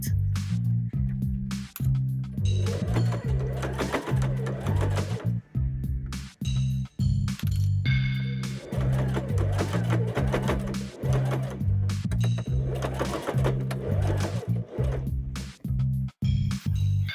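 A sewing machine stitches the sides of a scrap fabric pouch, its motor whirring loud and close in several long runs broken by brief stops.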